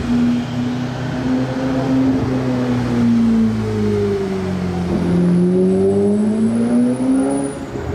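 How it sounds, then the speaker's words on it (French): A Formula 1 car's engine droning and shifting pitch as it passes near a harbour with a small yacht going by, loud and sustained, rising and falling over several seconds. "le bruit de Formule 1 et un petit yacht qui dépasse"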